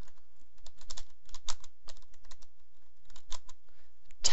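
Fingers type code on a computer keyboard in quick, irregular bursts of close, crisp key clicks with short pauses between words.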